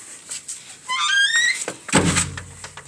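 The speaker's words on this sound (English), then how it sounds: "I'm going to go in and completely shut the door" A door being shut completely in a dark room, a rising squeak as it swings, followed by a solid thunk as it closes, close and fairly loud.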